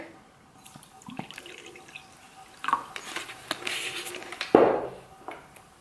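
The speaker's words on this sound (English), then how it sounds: "grab a mug or a cup and fill it with water" Water poured from a tap into a mug for quenching a hot soldered stacker ring, heard as a few drips and then a short burst of filling splash, close and alone.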